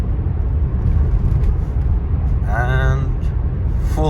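A BMW 525d F11 LCI diesel estate in sport mode pulling at full throttle from 100 km/h, a loud steady engine and road roar heard from inside the cabin, with a brief rising tonal whine near the end.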